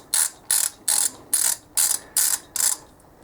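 Ratchet wrench tightening two nuts into steel on a pit bike engine during a piston change, giving seven evenly spaced, crisp, close clicking bursts at a steady rhythm with no talking.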